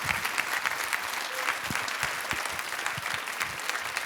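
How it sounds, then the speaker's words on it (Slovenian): Studio audience applause on a Slovenian TV entertainment show, a lively continuous clapping with some crowd noise and a few sharper individual claps standing out. "Dajmo en aplavz za Franca."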